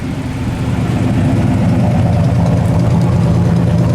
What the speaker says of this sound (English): that Flowmaster dual exhaust with that big pipe, it just awesome